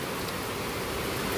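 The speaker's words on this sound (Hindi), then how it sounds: "आपको आवाज़ सुनाई दे रही होगी बारिश की" Heavy monsoon rain falling in Mumbai, a steady dense hiss of downpour at close range, continuous and even throughout with no talk.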